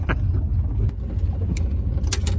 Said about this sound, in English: It's a little bit noisy in here. You hear stuff rattling around. It's because I fired the engine up.